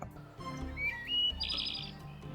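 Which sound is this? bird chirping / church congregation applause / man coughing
bird chirping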